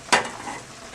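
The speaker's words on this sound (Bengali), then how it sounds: "পরিমাণ মতো জিরের গুঁড়ো, মরিচের গুঁড়ো পরিমাণ মতো, আর একটু ধনিয়ার গুঁড়ো পরিমাণ মতো দিয়ে এই মিশ্রণটা আমি একটু গরম করে নেব।" A mixture of cumin, chili and coriander powder is stirred as it warms in a pan: one sharp scrape up close, followed by a soft sizzle.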